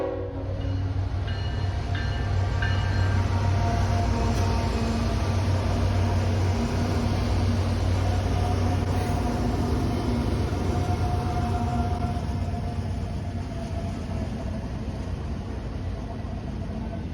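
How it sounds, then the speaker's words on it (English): A Norfolk Southern freight train rolls past with locomotive 4003, a DC-to-AC conversion, trailing: a steady, loud rumble of wagons and wheels that holds for the whole stretch, with a faint horn-like tone in the background. "that locomotive, number 4003, is one of Norfolk Southern's DC to AC conversion"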